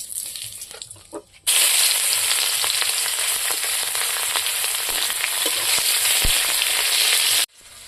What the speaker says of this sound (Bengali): চালানির জন্য আমি পেঁয়াজ কাঁচা লঙ্কা তেজপাতাটা দিয়ে দেবো